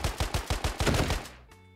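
A Bison gun fires in a Minecraft gun mod: a rapid automatic burst of about seven evenly spaced, punchy shots, then a brief fading tail with a faint mechanical ring.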